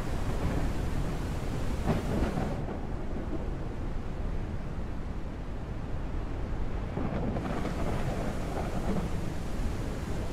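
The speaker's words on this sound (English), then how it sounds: "Something that is most noticeable during heavy rain and thunder" Heavy rain and rolling thunder in the game Forsaken Realms: Vahrin's Call, a dense steady roar of rainfall with low rumbling, going briefly duller and muffled in the middle as if heard from indoors, then opening up again.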